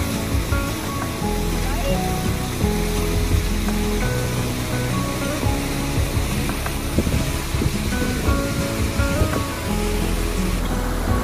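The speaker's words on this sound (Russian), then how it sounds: "Красивый водопад. Чистый-чистый." Steady roaring rush of falling water from a waterfall at Mount Rainier National Park, Washington, fills the scene, with a voice talking over it.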